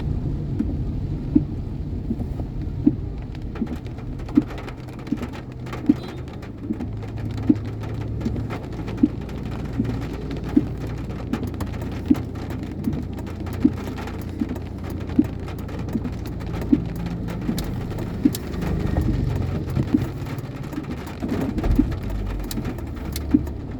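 Rain pours steadily on a scooter rider in a continuous hiss, with a low rumble underneath and regular soft knocks recurring about every second and a half throughout.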